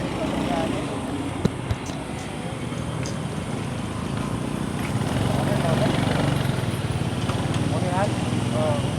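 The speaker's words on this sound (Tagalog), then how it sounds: "Ayan na yung motor, Raider 150." Raider 150 motorcycle engine idling steadily at close range beneath people talking, with a few brief knocks near the start.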